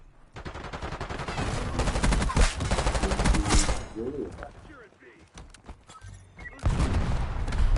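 Gunfire in Call of Duty, dense rapid automatic bursts and booms close and loud, pausing briefly midway before resuming, with a voice talking underneath.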